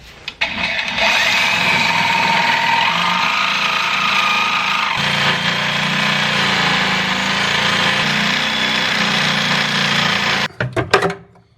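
Power tool cutting through a seized suspension bushing bolt on a Mitsubishi Eclipse, a loud harsh continuous grinding whine lasting about ten seconds before stopping abruptly, followed by a few brief clanks.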